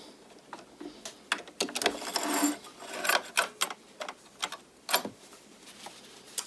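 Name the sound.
sewing machine sewing a knit headband seam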